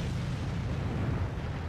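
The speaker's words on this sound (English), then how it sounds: "You can see artillery shell lands right behind me." An artillery shell lands and explodes close by in the tank game World of Tanks, a deep sustained rumbling boom.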